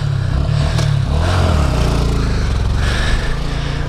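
A Honda Grom motorcycle engine, its front fender caked with mud, revs continuously and loudly close by, with a low rattling drone throughout and no voices.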